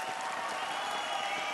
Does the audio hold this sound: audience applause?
yes